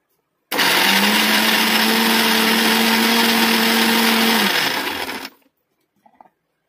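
A kitchen mixer grinder whirs steadily for about five seconds as it blends juice ingredients, loud and close with a sustained motor drone, then winds down and stops.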